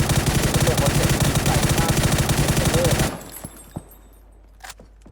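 Rapid automatic gunfire from a newly skinned weapon in the PUBG battle-royale game, a loud sustained burst of dense shots that cuts off abruptly, followed by a few scattered faint pops and quiet ambience.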